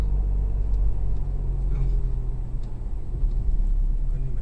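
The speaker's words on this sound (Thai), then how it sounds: "เสียงเหมือนรถกระบะจริง" Low, steady engine rumble like a real pickup truck, droning continuously and fairly close with no clear revving or breaks.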